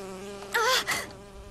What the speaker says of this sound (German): Ach, eine Biene. Ich hasse diese Viecher.